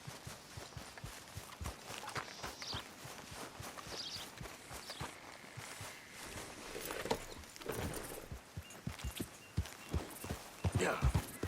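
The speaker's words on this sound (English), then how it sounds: "Where's that horse got to?" Horse hooves clip-clop at a steady walking pace in Red Dead Redemption 2, with rhythmic thuds on dirt and soft gear rattles over faint outdoor ambience, fairly quiet throughout.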